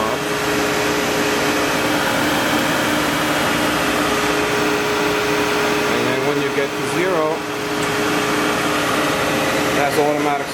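A Myford MG12-HPM outside-diameter grinder runs in plunge grinding mode, a loud steady hydraulic and motor drone with a few brief tonal shifts, while someone talks over it.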